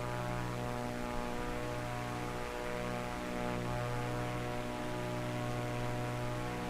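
Steady, droning propeller airplane engine in Microsoft Flight Simulator 2024, a constant loud hum with layered harmonic tones and a slight wavering in pitch, continuous throughout and with no voices.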